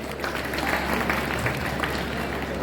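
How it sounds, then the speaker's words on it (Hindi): An audience claps together at an RSS gathering led by Indresh Kumar, right after a group game. The applause is a dense, steady wash lasting a couple of seconds. "तालियां बजा लीजिए।"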